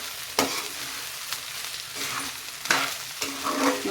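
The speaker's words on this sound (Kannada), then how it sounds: "ಸ್ವಲ್ಪ ಅದನ್ನು ಕೂಡ ಈಗ ಫ್ರೈ ಮಾಡ್ತೀನಿ" Rice with salt frying in ghee in a pan for ghee rice, a steady close sizzle broken by several sharp scraping stirs of a spoon against the pan, with no talk.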